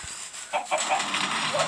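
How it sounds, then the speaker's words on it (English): Chickens cluck in a video game, a few short squawking calls over a busy, noisy game soundtrack, fairly close and moderately loud. "Chickens!"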